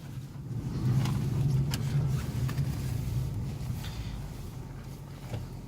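A chipped Tagaz Vega C100 car accelerating hard, its engine droning loudly and steadily from inside the cabin with a low rumbling tone, rising slightly then holding as road noise continues.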